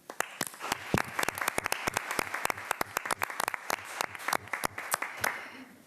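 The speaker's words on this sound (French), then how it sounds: "Alors, je me permets de l'applaudir." Applause at a municipal council meeting, made of sharp, distinct claps from a smallish group at an uneven rhythm, fairly close and lasting several seconds before trailing off.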